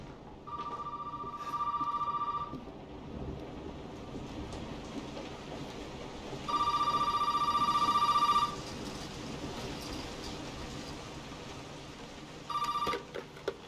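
A telephone rings in the horror game Resident Evil 7, sounding in three separate bursts of bright electronic trilling, the middle burst longest, against a low ambient game drone with no talk.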